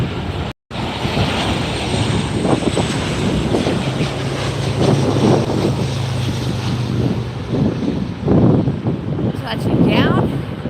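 Southwest airliner landing on the runway at LAX airport, a steady, loud engine roar with wind buffeting the microphone, close by and continuous, while a person talks over it.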